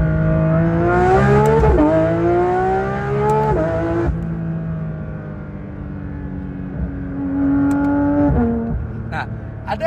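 A Porsche 911 GT3 RS accelerates hard with a rising, high-pitched engine wail, snaps through quick gear changes that drop the pitch, and climbs again, loud and continuous with talk over it.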